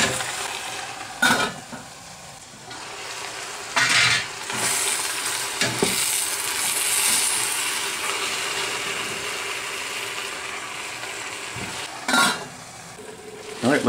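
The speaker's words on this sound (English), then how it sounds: "give the spinach a good toss." Spinach tossed and stirred in a hot pan for creamed spinach with pancetta, soft rustling and sizzling throughout, broken by a few louder scrapes and clanks of the utensil against the pan, close up and with no talking.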